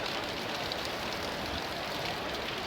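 Steady, even rain falls on a bridge and narrow road, a dense continuous hiss with no voices or breaks, heard from a passenger's view aboard the Uttarbanga Express train.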